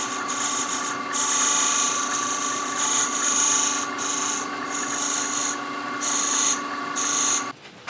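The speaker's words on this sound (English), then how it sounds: "take my pyramid tool or point tool and just round that edge off there" A pyramid point tool rounds the edge of a turned wooden box on a lathe, giving a steady rasping scrape that swells and eases in several passes over a constant motor hum, with no talk.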